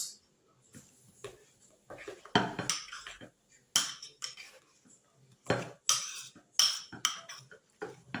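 A spoon scrapes and clinks against a bowl in short, irregular strokes while full fat milk for yogurt is stirred to break up lumps, the sound close and fairly quiet with pauses between bursts.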